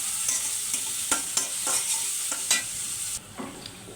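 Ginger garlic paste stir-fries in hot oil in a kadai, a loud continuous sizzle punctuated by repeated scraping strokes of a spatula, easing slightly near the end.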